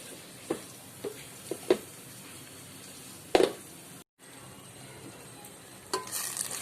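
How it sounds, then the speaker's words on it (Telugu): Ground masala frying with onions and curry leaves in a pan for a bitter gourd curry: a faint, steady sizzle punctuated by a few sharp clinks and scrapes of a spoon stirring against the pan. "ఇందులో మసాలాని వేసుకొని ఇలా వేయించుకోవాలి"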